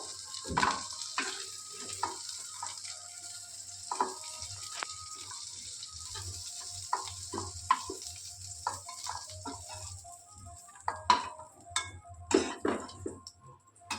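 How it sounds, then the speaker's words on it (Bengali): Deep-fried prawns are lifted out of hot oil in a frying pan: faint sizzling with scattered clicks and scrapes of a utensil against the pan, close and quiet. "মাছটা খুব ভালো করে লাল লাল করে ভেজে নিয়েছি এবার তুলে নেবো"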